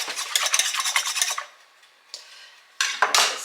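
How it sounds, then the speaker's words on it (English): A whisk beats briskly against a bowl of active sourdough starter in a close, rapid series of scraping strokes, pausing briefly before resuming. "just gonna give it a quick little whisk"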